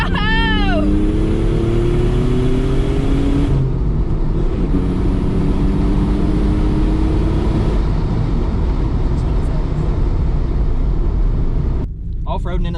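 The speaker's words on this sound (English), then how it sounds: "Off-roading in a twin turbo 3000 GT VR4" A twin-turbo Mitsubishi 3000GT VR4 drives off-road. The engine revs up in rising sweeps at first, then settles into a sustained, throaty drone with rumbling underneath, and voices can be heard inside the car.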